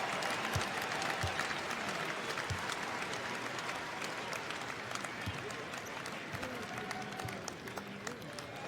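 Arena crowd applauding steadily in honor of Kobe Bryant at an NBA game between the Milwaukee Bucks and Washington Wizards, a dense, sustained wash of clapping and crowd noise, fairly distant, with faint talk over it.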